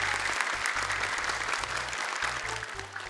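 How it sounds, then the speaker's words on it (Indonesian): Audience applause at an Indonesian children's Quran recitation show, a bright, even burst of many hands clapping continuously over a low pulsing music bed. "Boleh tepuk tangan sekali lagi untuk Arim dan Naja."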